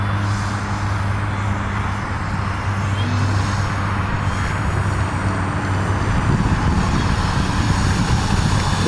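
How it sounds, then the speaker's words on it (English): A pink Piper Cub airplane drones steadily on its landing approach on its first flight. The engine hums at a near-constant, fairly loud level throughout, with no talking. "I'm gonna put my flaps down right there and coming in for landing."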